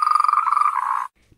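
A single sustained frog call, loud and close, with a strong tonal buzz that runs for about a second and then stops abruptly into silence.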